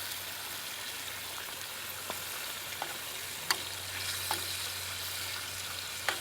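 Sausages sizzle steadily in a pan outdoors during a breakfast cook-up at a carp fishing lake, a constant close frying hiss with occasional small pops and crackles.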